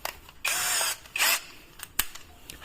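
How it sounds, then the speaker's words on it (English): A power drill whirs in two short bursts, each about half a second, drilling a hole in a carburetor plate, followed by a few sharp mechanical clicks up close. "you drill until this hole pops through"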